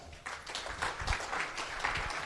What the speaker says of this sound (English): a big round of applause for Al Baxter